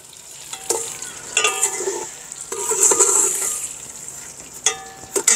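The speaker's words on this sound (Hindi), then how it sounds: "थोड़ी सी चीनी अच्छी तरह से ये मिक्स हो जाए ना" A spoon stirs sugar through a cooking mixture in a metal pan, giving close, loud scraping strokes and clinks in uneven bursts over a soft sizzle.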